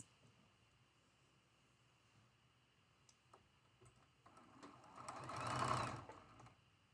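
A sewing machine stitches quilt block fabric edge to edge with a quarter-inch seam: faint ticking at first, then a soft mechanical whir that builds to a brief, louder burst of stitching before stopping.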